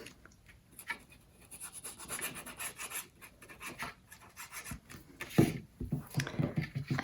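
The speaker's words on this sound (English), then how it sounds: "Then you can burnish it down and then open it up and burnish the bottom." Paper flaps on a handmade window album are burnished down by hand with a tool, making soft, close, repeated rubbing and scraping strokes that grow louder toward the end.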